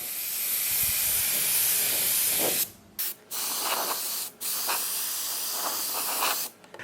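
A spray gun sprays paint onto an RC car body, a loud close hiss that runs steadily, then cuts off and restarts in several short bursts.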